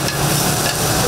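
A metal spatula works across a row of flat iron griddles covered in batter for Taiwanese egg pancakes at a busy breakfast stall, a dense continuous scraping and sizzling din filling the moment.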